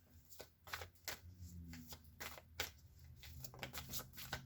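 Tarot cards are shuffled and drawn as clarifiers, giving a run of quick papery riffles and flicks with soft slaps at an irregular pace, close and fairly quiet, with no talking.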